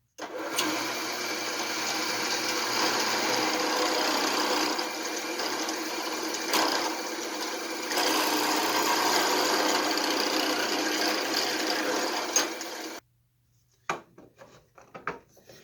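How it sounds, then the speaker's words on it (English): A drill spins a 3/8 bit into an interrupted cut of white oak at 1800 RPM, giving a steady, loud whirring drone with a dip midway that stops abruptly near the end, followed by faint handling noises. "We have a 3/8 bit going into an interrupted cut of white oak, and we are turning at 1800 RPM."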